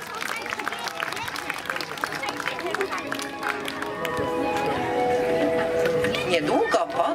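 Applause and cheering from an audience at a children's stage performance of The Three Little Pigs, scattered clapping building to a fuller crowd ovation mixed with lively chatter and movement.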